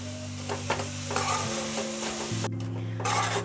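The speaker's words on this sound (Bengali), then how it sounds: "গুড়টা নারকেলের সঙ্গে খুব সুন্দর করে মিশে গেছে।" A jaggery and coconut filling is stirred in a pan over a low-to-medium gas flame, with repeated scraping strokes over a soft sizzle and a steady low hum close by.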